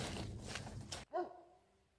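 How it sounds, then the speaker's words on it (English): After a stretch of noisy rustling, a Doberman gives a single short bark nearby, trailing off into quiet. "tears in my eyes as I hear him bark at a squirrel"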